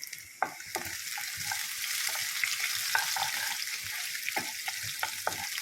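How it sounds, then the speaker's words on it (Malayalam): Small chopped onions fry with mustard seeds for a ginger curry, a continuous close sizzle with irregular spatula scrapes and taps as they are stirred. "പൊട്ടി വരുമ്പോഴത്തേക്ക് ഉള്ളി ഇട്ട് കൊടുക്കാം ചെറിയ ഉള്ളി ചെറുതായിട്ട് ഒന്ന് നുറുക്കിയെടുത്താണ്"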